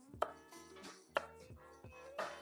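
A sharp kitchen knife chops through jalapeno, sounding as three distinct, fairly close blade strikes against a cutting board spaced about a second apart, with faint background noise between them and no talking.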